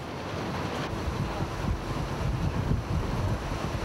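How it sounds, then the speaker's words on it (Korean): Rough, rising sea waves surge around a small 15-ton Chinese fishing boat. A continuous loud wash of surf and wind fills the air, with heavier swells building and breaking close by. "밤새 높아진 파도는 아침이 돼도 잠잠해지지 않는다."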